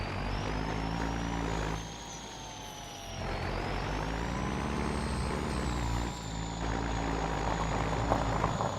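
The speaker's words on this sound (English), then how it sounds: "God, this truck sounds so good." A heavy truck engine in the video game Farming Simulator 25 rumbles steadily and loudly up close, with a low drone throughout that dips briefly twice, and hiss-like air sounds on top.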